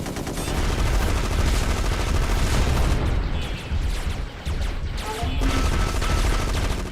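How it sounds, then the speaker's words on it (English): Rapid gunfire and heavy explosions from the 2002 mech video game Gun Metal, a loud, dense barrage of bursts and booms running almost continuously, with a brief lull midway before the firing resumes. "you're going to be mostly hearing explosions and gunfire throughout this game"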